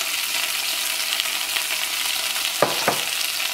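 Boneless chicken fries in a pan with pizza sauce for bread pizza rolls, a loud steady close sizzle with a couple of brief scraping stirs near the end and no voices.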